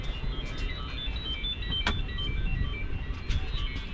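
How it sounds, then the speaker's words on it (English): Phone morning wake-up alarm going off during a night of sea fishing on the Humber estuary, a series of short high electronic beeps repeating over wind and rumbling background noise, with no talking. "That's my getting up alarm."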